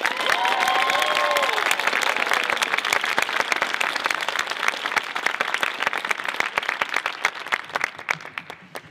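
An audience at a district speaking event claps to welcome a district queen, a dense burst of applause with a whistle early on that gradually thins into scattered individual claps near the end.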